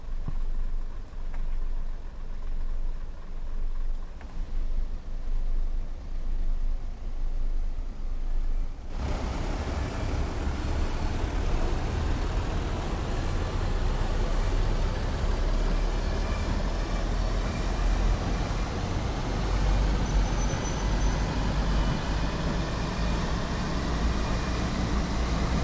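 Train running in the Train Sim World video game on the North Trans-Pennine route, a steady rumbling roar that swells loudly after a quieter start and keeps going continuously with no talk.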